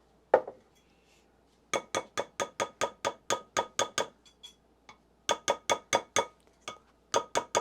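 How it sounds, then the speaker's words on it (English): A whisk beats wet cookie ingredients, banana batter with salt, in a bowl, in quick bursts of sharp rhythmic clinks against the side, pausing between rounds, close and clear with no talk. "I'm just going to whisk this up"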